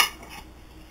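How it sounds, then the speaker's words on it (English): A fork clinks and scrapes against a dish while mixing garlic powder and garlic salt into shrimp, a sharp metallic tap at the start followed by soft, faint stirring. "I'm going to take a fork and I'm just going to like mix it all in."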